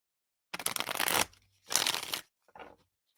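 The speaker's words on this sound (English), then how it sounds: "Shuffle, shuffle, shuffle." Playing cards are shuffled in three brisk riffling bursts, close and crisp, the last one shorter, with quiet pauses between them.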